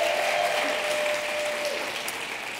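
Sustained audience applause fills a theater at a Mixed Taste event, a dense even wash of clapping that holds steady and fades slightly toward the end.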